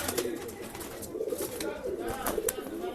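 Pigeons coo softly in a steady run of low, throaty calls among birds kept for sale in Bangalore, with faint voices and background chatter mixed in.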